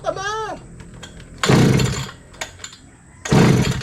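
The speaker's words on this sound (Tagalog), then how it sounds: "hindi natin mapaandar yung grass cutter" A small grass cutter engine being pull-started, two loud bursts of sputtering cranking that fail to catch, with quieter gaps and a voice at the start.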